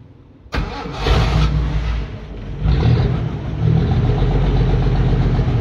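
A Toyota Land Cruiser FJ40 hardtop with a 4400 cc carbureted engine cranks and fires up quickly, then settles into a loud, rough idle close by, with the engine note rising in two steps as it revs.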